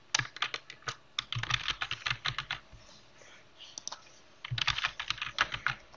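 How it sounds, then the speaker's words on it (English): Keystrokes clatter on a computer keyboard as a password is typed, bursts of quick clicks separated by short pauses, close and clear with no talking. "I'll just type in computer"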